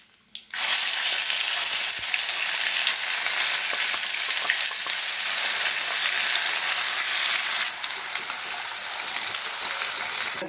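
A ground onion and tomato paste hits hot oil with fennel seeds in a pan for a soya chunk gravy, bursting into a loud, continuous sizzle that starts abruptly and carries on with no talking.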